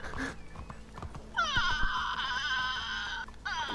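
A horse in the video game Red Dead Redemption 2 gives a loud, shaky whinny lasting almost two seconds, with a second whinny starting at the end. Brief hoof clops and soft background sounds come before it.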